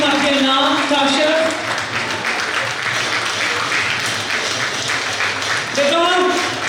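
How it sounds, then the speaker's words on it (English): Audience at an awards event for women's empowerment clapping in sustained, dense applause, with a voice talking over it at the start and end. "please give her a resounding, and don't stop the clapping, please"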